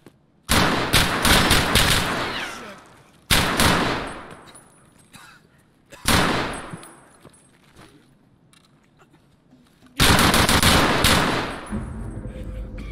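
Gunfire in Escape from Tarkov: four separate loud, close bursts of rapid automatic shots, each cracking sharply and then trailing off in echoing decay, with short quiet gaps between them.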